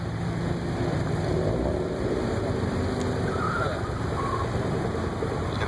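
A Ford Mustang runs an SCCA autocross course at the Giant Center, its engine a loud, steady roar that holds without a break from start to end.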